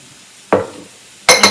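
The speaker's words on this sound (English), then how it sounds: "I'm going to hold off on the onions for a few minutes to give these mushrooms a moment to sweat and get some of that moisture cooked out" Mushrooms sweating in a hot pan with salt, two bursts of sizzle and stirring clatter against a quiet background, one short scrape then a louder double stir near the end.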